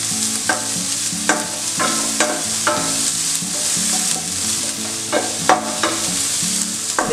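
Onion and garlic sauté in a pan for sweet chilli chicken, a continuous close sizzle broken by repeated scraping strokes of a utensil stirring at an uneven rhythm, with no voices.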